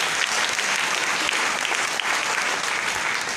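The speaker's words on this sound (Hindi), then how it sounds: "एक बार नारी शक्ति के लिए सादर तालियां होगा।" An audience claps steadily and densely throughout a seminar event, a continuous wash of many hands with no pauses.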